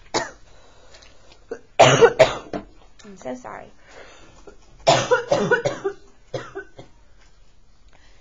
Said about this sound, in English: Try not to cough into the microphone.